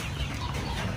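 Young chickens about two to three months old, kept on a Filipino backyard farm in rainy weather, cluck softly in a steady, close murmur with low rustling and no voices.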